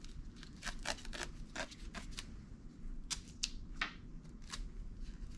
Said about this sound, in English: So I will grab some tape.